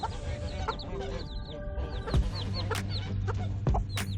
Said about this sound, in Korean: 갑자기 다니와 병아리 한 마리가 닭장 밖으로 뛰어나온다